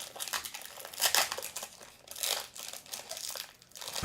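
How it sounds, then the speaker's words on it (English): A Pokemon card gold booster pack is wrestled open by hand, giving quiet crinkling and tearing of foil wrapper in uneven bursts, close up with no talking. "I'm struggling getting that pack open"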